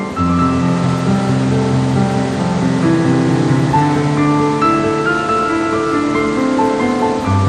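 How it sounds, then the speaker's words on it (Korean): Many waterfalls pour down steep rock cliffs in the rain in New Zealand's glacier-carved South Island, making a continuous dense rushing wash with a tonal music bed underneath. "솟아오른 기암절벽에 수많은 폭포가 흘러내립니다."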